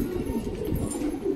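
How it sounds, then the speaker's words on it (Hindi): Pigeons belonging to a pigeon keeper coo softly in low, overlapping murmurs, a steady close flock sound with no clear gaps. "ये देख सकते हो आप लोग कबूतर"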